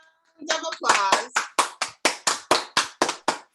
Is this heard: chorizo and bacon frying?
no